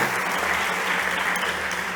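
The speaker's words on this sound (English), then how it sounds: "Big applause to Samantha." A startup-competition audience on a sustainability pitch stage gives steady, even applause that stays dense and fairly loud for the whole stretch, with no voices on top.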